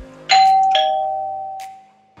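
A wired doorbell chime triggered through a relay, two clear tones struck in quick succession and left ringing as they slowly fade, close and loud with no talking.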